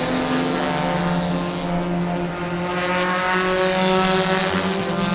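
Touring 4 race cars at Sebring roar past in a loud, continuous blend of engine notes, the sustained howl swelling slightly as the field sweeps by.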